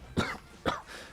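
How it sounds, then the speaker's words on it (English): Two sharp, close coughs about half a second apart, the second followed by a fainter raspy exhale, from a person on a casual music livestream. "Crusty ass cough"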